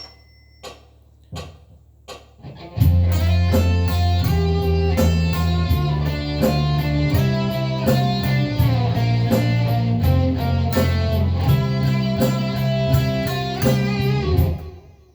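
A few plucked notes, then a melodic lead guitar solo played over a steady backing, loud and continuous with no voices.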